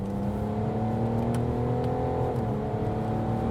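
A tuned BMW 530d M-Sport diesel sedan, Stage 3 with about 450 hp and 900 Nm, pulls hard to high speed, its engine a steady, loud droning whir rising gradually in pitch, heard from inside with heavy road and wind noise and no talking.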